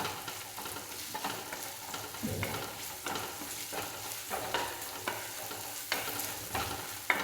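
Slit green chillies and onions frying in a pan for a Kerala sardine curry, stirred with a spatula: a steady close sizzle with irregular scraping strokes throughout, no voices.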